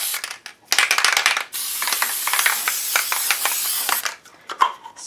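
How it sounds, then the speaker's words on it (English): An aerosol can of spray adhesive hisses in a short burst, then a longer steady spray, with faint clicks and rattles between. "Bring in my spray adhesive."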